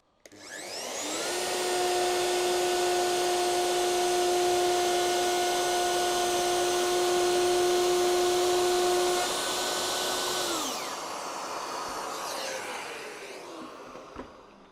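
A wood router running along a parallel guide spins up to a loud, steady high whine, holds it for about ten seconds while machining, then winds down with fading rattles.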